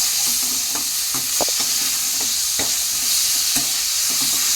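Rice with fish oil stirred in a frying pan, giving a steady hiss of frying with repeated scraping strokes of the spoon, close up, with no voices.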